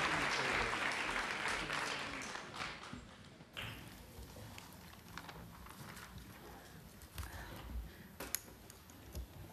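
Audience applause in a hall as a speaker goes to the podium, a dense clatter of many hands that is loudest at the start and then thins into scattered claps and room noise.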